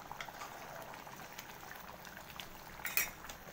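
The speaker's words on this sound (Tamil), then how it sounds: "பத்து நிமிஷம் கொதிக்கட்டும்." Vada curry simmering in a pot gives a faint, steady bubbling texture throughout, with one brief clink near the end.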